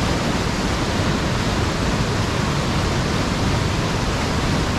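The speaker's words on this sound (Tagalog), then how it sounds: "Ayan ang falls ng Devil's Forest, Devil's Green pala." The Devil's Glen waterfall in a Wicklow forest, a dense, loud, continuous roar of falling water that fills the whole clip without letup and without voices.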